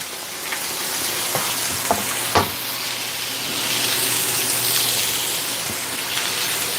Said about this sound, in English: So let's get a nice sear over there.